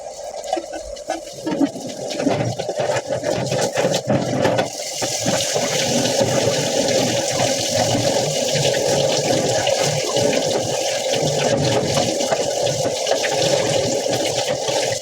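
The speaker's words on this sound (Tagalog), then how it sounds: "Bandawang kaagad ang patatas sa cold running water upang matigil ang cooking process." Cold tap water runs steadily over potatoes, a continuous gushing stream that starts quieter and grows fuller after a few seconds, close and loud with no talking.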